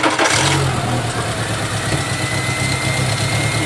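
A car engine cranks and catches during a do-it-yourself tune-up, then runs at a loud, close, rough idle with a low uneven throb from a misfire.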